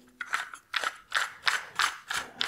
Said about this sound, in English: you put one in here, then you start tightening